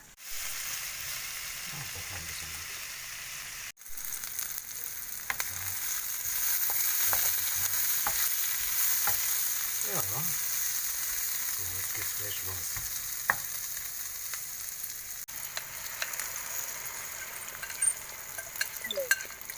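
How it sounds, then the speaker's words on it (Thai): Beaten eggs sizzle and crackle steadily in a hot pan as they are stir-fried, with occasional scrapes and clinks of a utensil stirring them. "ทำคั่วไข่กันนะจ๊ะ"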